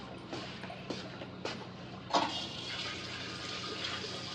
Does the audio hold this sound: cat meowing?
no